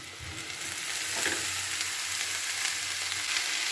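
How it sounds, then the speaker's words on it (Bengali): Chopped khesari greens frying with browned onion and garlic, a dense, even sizzle that swells slightly as the leaves hit the oil, with faint stirring and no voices. "এবার আমি কুচিয়ে রাখা শাকগুলোকে এর মধ্যে দিয়ে দিচ্ছি।"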